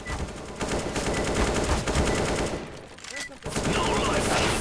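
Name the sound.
gunfire in a shooting video game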